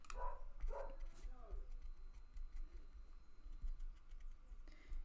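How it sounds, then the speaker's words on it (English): A few dogs bark in the distance, short bursts early on, while a person talks softly nearby indoors and birds chirp faintly. "there are dogs barking"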